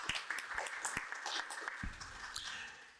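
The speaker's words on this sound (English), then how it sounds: "I think that deserves a round of applause." Applause from a conference audience on Pan-Africanism, with scattered individual claps at first building into denser, sustained clapping throughout.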